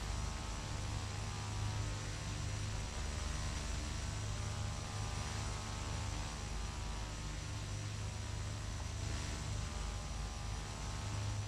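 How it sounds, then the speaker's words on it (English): A Beechcraft King Air 200 turboprop engine runs steadily after startup, giving a continuous, even hum with a broad whine and airy noise that holds without change. "engine clearing, first engine startup"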